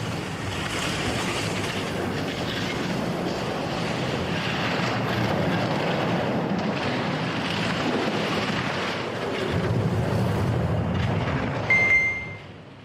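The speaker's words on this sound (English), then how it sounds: "That's the sound of a 4-man bobsled team blasting down an icy track." Four-man bobsled racing down an icy track, a continuous loud rushing roar of runners and wind that swells near the end before cutting off abruptly.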